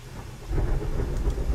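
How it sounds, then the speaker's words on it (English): Rain falls steadily outdoors while a deep rumble of thunder rolls underneath, swelling partway through and holding strong to the end, with no voices present. "You guys enjoying the sound of the rain?"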